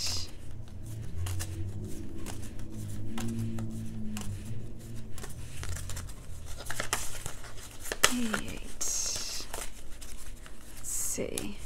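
Tarot cards are shuffled in quick riffling and flicking bursts, close and crisp, while a person talks over them.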